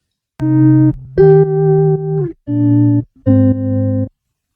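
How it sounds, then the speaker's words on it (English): Clean, dry electric guitar playing four sustained chords with short gaps between them, loud and close. "So without the processing, the guitar sounds like this."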